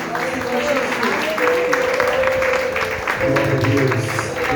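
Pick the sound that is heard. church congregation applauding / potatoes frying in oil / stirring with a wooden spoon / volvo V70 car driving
church congregation applauding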